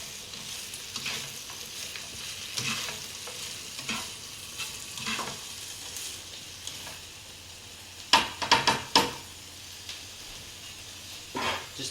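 Noodles fry in a hot pan with a steady soft sizzle, broken by several scraping, clattering stirs, a cluster of louder strokes coming later, and no talking.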